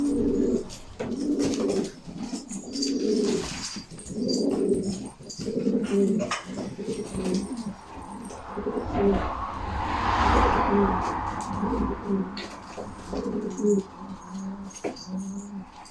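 Filo pigeons coo in a loft in repeated low, rhythmic bursts, close and fairly loud, with a brief rustle midway and faint voices now and then.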